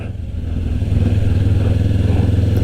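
A Kawasaki Ninja 500 motorcycle engine runs loud and close, its low rumble swelling as it revs up and then holding at a steady throbbing pulse.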